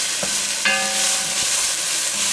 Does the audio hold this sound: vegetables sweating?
yes